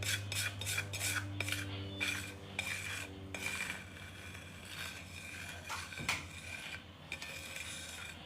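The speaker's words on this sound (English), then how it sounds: "we want to keep going until we no longer hear the scrape noise" A utensil scraping a mixture around a bowl, rhythmic close scrapes and clinks that are quick and busy at first, then slower and softer, over a low steady hum.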